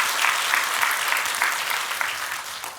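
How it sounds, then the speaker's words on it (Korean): A church congregation applauding together at a sermon gathering, a dense, even patter of many hands that carries on steadily and then eases off slightly. "우리 박수하겠습니다."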